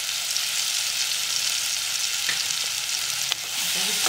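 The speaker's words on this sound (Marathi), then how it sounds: "आता हे छान जरा परतून घेऊया टोमॅटो 1-2 मिनिटं" Chopped onion and tomato frying in oil for a spinach and garlic dal, a steady, bright hiss of sizzling heard close up with a few faint utensil clinks while being stirred, no talking.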